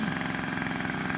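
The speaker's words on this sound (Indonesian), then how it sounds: "dipotong rumput dengan mesin memotong rumput seperti ini." A motorized grass cutter clears weeds on an organic farm, its engine droning steady and loud up close with a fast even pulse, no voices.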